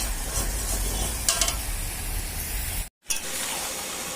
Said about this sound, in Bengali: দেখো মাংস আমার কষানো হয়ে এসছে